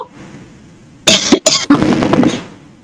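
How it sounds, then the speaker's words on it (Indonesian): Two or three sharp, forceful coughs from one person in quick succession, close and loud, followed by a rougher, sustained hacking cough after a short gap. "Batuk, keluarkan batuknya."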